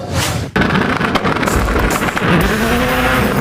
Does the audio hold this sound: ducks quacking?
no